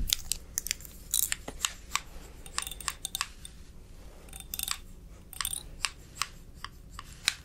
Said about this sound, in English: I'm gonna use the scissors now too.